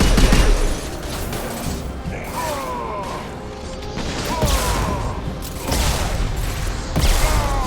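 Sci-fi weapons fire in Mass Effect 2 combat, a sequence of loud sharp shots and impacts in irregular bursts over mechanical clatter and whirring, with brief voice lines mixed in.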